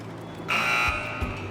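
A game-show contestant buzzer on a Ramzan special quiz sounds one loud, steady electronic tone that lasts about half a second over a low background hum, then cuts out.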